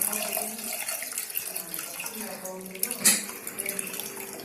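Strained tamarind water pours into a pot of kollu (horse gram) rasam as a steady, splashy stream of liquid, close and fairly loud, with a brief stronger splash near the end.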